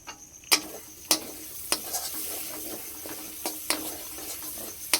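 Fried spice paste sizzles in a pan while a spoon stirs it, giving a steady close hiss broken by sharp scraping knocks roughly every half second to second.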